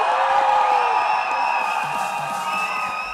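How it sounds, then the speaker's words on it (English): A LAN esports arena crowd cheers loudly for Velocity Gaming, a sustained wall of shouting and whooping that holds steady throughout. "we need to find out who the audience is cheering for"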